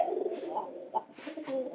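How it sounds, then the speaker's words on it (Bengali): A pigeon in an upper coop coos several times up close, low rounded calls in short bursts with brief pauses between them, loud and clear. "এই যে উপরের ঘরের কবুতর, এটা কিন্তু খুব ডাকতে পারে"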